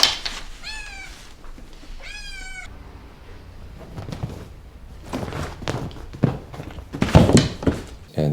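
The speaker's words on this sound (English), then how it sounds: "We brought home a couple of Bengal kittens." Two Bengal kittens meow in short, high, wavering calls near the start, followed by soft thumps and scuffling of movement in a quiet indoor room.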